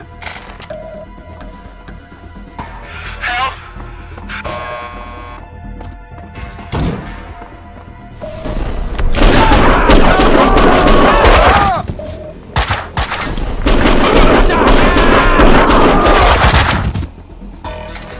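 Gunfire in the video game Max Payne 2: loud, dense bursts of rapid shots with crashes and thuds, scattered shots at first, then two sustained heavy barrages, over a musical score.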